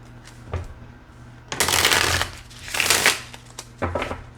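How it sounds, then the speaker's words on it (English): Tarot cards being shuffled in two or three quick riffling bursts, close by, with short pauses and a few light taps between them. "Yeah, I'm gonna shuffle one more time."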